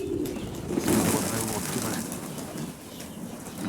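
Pigeons coo softly in low, rolling calls while wings flutter nearby, in a blustery, rainy outdoor setting with a steady wash of wind noise underneath.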